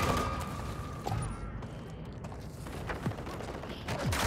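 In Call of Duty: Modern Warfare III, faint, scattered gunfire crackles in the distance with a few sharp reports over a low, steady background; the shots are quiet and sparse.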